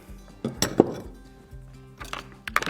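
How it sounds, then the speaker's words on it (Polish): A utensil stirs fermenting carrot peels in a glass jar, giving a few sharp clinks and scrapes in two short bursts separated by a quiet pause, close and fairly soft. "W międzyczasie zamieszam swoją marchewkę"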